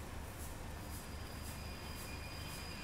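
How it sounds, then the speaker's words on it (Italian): A train pulls into a station in the video game Project Wunderwaffe, a steady, even rumble with a faint high whine holding at the same level throughout, with no voices. "Sta arrivando un treno. Oh, è arrivato un treno."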